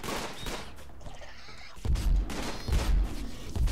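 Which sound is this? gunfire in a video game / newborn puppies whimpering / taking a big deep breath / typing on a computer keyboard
gunfire in a video game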